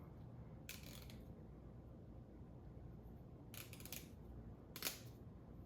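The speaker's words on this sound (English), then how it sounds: "this has a little spring-loaded something in it that makes it go clickety" The spring-loaded mechanism in a Smart Doll support socket, giving three faint quick clicky bursts over a quiet background.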